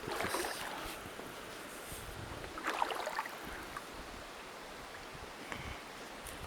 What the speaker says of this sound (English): If I quit making waves.